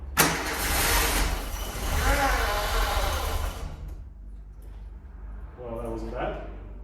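A 1988 VW Golf MkII barn find cranks hard for a few seconds and catches into a rough, loud engine run, then dies back to quiet idle-level rumble as people talk nearby.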